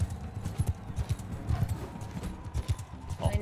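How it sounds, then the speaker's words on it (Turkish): Galloping horse hooves from Mount & Blade II: Bannerlord beat a quick, steady clip-clop rhythm, close and moderately loud, with faint game background underneath. "Oğlum bunun atı ne böyle? Senin atın çok yavaş."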